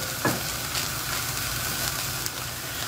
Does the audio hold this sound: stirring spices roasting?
yes